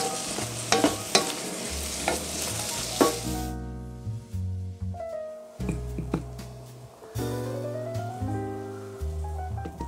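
Food being stirred through melted butter in a pan, with repeated scraping and clinking strokes over a low sizzle, interrupted by tonal hums, no speech.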